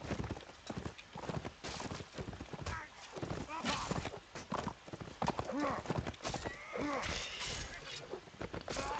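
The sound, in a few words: horse hooves and whinny in video game match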